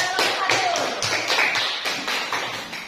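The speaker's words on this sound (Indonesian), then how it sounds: "Tepuk tangan untuk kelompok" A small group claps briefly and unevenly, the sharp claps close and somewhat scattered, with faint voices underneath.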